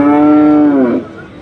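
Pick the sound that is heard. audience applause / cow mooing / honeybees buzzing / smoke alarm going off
cow mooing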